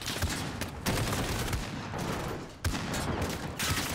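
Rapid gunfire in the video game Call of Duty: Modern Warfare, dense bursts of shots filling the whole stretch with a couple of sharp louder hits, fairly quiet overall.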